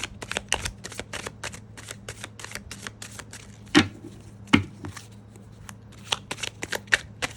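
A deck of tarot cards is shuffled and handled up close, giving rapid riffling flutters and crisp slaps, with a couple of louder thumps as the cards are squared or set down.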